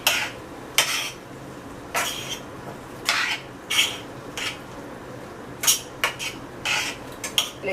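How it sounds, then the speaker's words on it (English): A spoon stirs saltfish with vegetables and butter beans in a pot, producing about a dozen separate clinks and scrapes against the metal, spaced irregularly and fairly close. "Mix it up in there."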